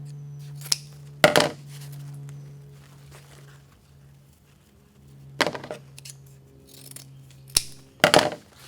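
Scissors snip through ribbon tails folded lengthwise for a chevron cut, a few short crisp cuts and rustles spaced apart in a quiet room, with a faint steady hum beneath.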